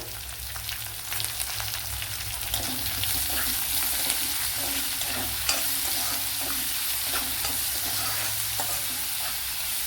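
Chopped onion salted and sautéing in a pan for egg perattu, a continuous close sizzle broken by soft scraping stirs, with no talk.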